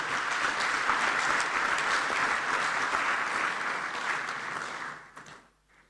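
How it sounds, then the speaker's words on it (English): A conference audience at an African inter-parliamentary gathering on family and sovereignty claps steadily and loudly, then the applause thins and fades out near the end. "Please, let's give them an applause."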